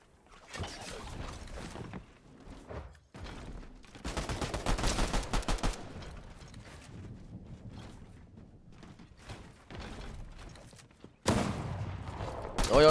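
Gunfire in a first-person shooter match, with bursts of rapid shots in several clusters, loud and close, separated by quieter stretches of game noise and ending in a sharp loud burst.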